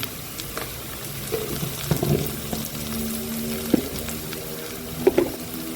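Okra curry with turmeric is stirred in a pan, with soft scrapes and light sizzling, plus a few sharper clicks of the spoon against the pan, faint and close.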